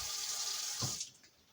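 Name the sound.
water poured from a thermos into a cooking pot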